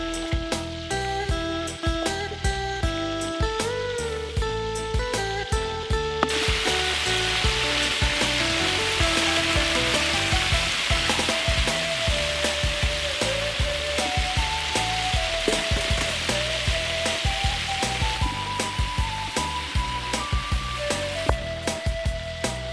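Duck pieces fry in hot fat in a pan, a steady close crackling sizzle with popping spatters that runs on evenly with no talking.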